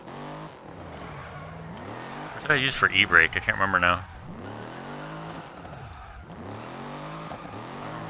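A 600-horsepower rally car in Dirt Rally 2.0 drones and revs through shifts, with a louder burst of throttle midway, while someone talks over it.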